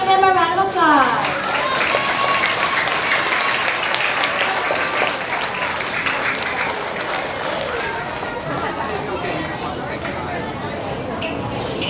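Sustained applause fills a school awards assembly for pre-K to grade 2 students, steady clapping from a crowd with children's voices mixed in throughout.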